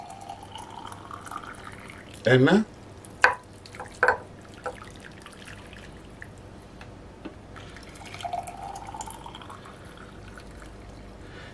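Water poured from glasses into an upside-down baking pan, with a rising fill tone, a few splashy drips and knocks, and a brief spoken word partway through.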